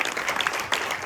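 Church congregation applauding, a dense, steady patter of many hands clapping together throughout, with faint voices mixed in.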